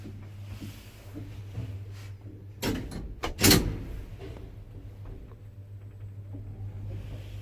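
1960s Del Bo elevator doors, later modernized by Italia, in a building in Portici slide with a quick cluster of soft thumps and rattles over a constant low machine hum, then settle.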